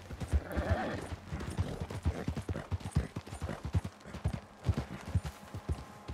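Horse hooves clip-clop in a steady rhythm in Red Dead Redemption 2, close and fairly loud throughout, with a brief whinny-like tone early on and no talking.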